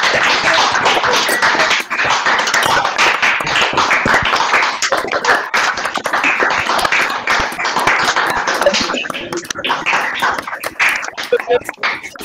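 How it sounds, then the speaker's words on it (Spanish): Online meeting participants applaud with open microphones at an academic tribute for emeritus and consulting faculty of FADU-UBA, a dense uneven patter of clapping and tapping lasting throughout, with voices talking over it and thinning toward the end. "pediría que abramos los micrófonos para que no solo se vean los aplausos, sino que se escuchen también"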